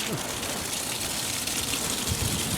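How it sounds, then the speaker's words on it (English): Water spraying steadily onto car tires during a hand wash, a continuous broadband rush with a few splashy surges, close and fairly loud, with no talking. "He's washing the tires,"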